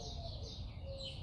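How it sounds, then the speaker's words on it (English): Morning birdsong outdoors, with a few faint chirps and thin calls over a steady low background hum, steady and unhurried; no one speaks. "Yeah, these birds,"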